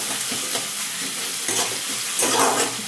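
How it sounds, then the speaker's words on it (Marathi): Onions sautéing in a pan until brown, giving a loud, continuous sizzle with rhythmic scraping and stirring swells of a spatula; no speech. "छान कांदा आहे ना ब्राऊन होईपर्यंत छान आहे ना आपण परतून घेऊयात कांदा"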